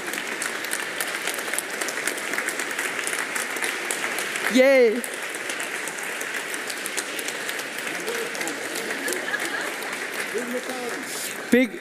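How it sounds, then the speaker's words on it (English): Dense, sustained applause from an audience in a room at an award ceremony, clapping continuously throughout, with a brief cheer and a voice speaking over it. "And a big applause."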